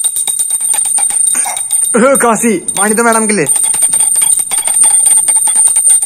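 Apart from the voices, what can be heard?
small bell being rung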